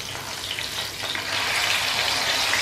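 Masala fish sizzling steadily in a hot pan over a low flame, a continuous close crackle and hiss that swells slightly partway through, with no talking over it.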